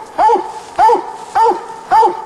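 A hunting dog bays at a raccoon up a tree in the woods, four loud, evenly spaced barks about half a second apart, each with a rising-falling howl-like tone, close by.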